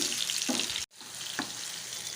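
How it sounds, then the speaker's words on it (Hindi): Tomatoes fry in a pan for a brain fry dish with a steady, close sizzle. A brief drop-out occurs early on, and a couple of soft stirring scrapes sound through the frying. "अब हम इसमें टमाटर डालेंगे और टमाटरों को उस वक्त तक पकाएंगे जब तक ये नरम ना हो जाए।"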